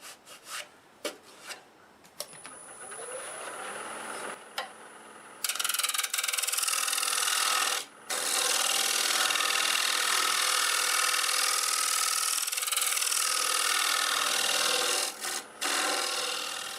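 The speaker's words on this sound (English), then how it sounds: "Try to blend this in, and we'll sand it." Sandpaper pressed against a spinning ash wood bowl on a wood lathe gives a loud, sustained rushing hiss, broken by a few short gaps, after a stretch of quieter light scraping.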